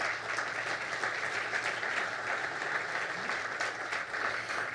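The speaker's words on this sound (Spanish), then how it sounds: "Un aplauso, por favor, para Miquel." Sustained audience applause at a live panel on water resilience and infrastructure, a full, even roar of many hands clapping that continues unbroken across the whole stretch.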